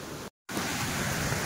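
Handibhanga Waterfall in Keonjhar, Odisha, flows strongly with a dense, steady roar of water, cut by a brief moment of silence before the rush resumes at full strength.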